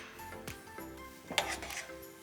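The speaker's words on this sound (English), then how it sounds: "stir just until they're warmed through" Chickpeas are stirred into a warm Parmesan mixture in a pan, with a spoon scraping and clinking softly against the metal in a few close, irregular strokes.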